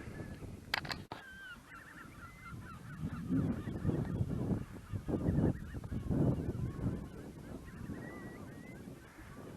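Seagulls swarm overhead on a hillside hike, their honking and squealing cries overlapping in a continuous noisy chorus over wind, some calls nearby and loud while others carry from farther off.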